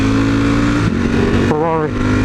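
A loud engine drones steadily as a Ferrari supercar passes close by among other supercars and Lamborghinis, its tone shifting partway through with a brief rising, wavering whine near the end.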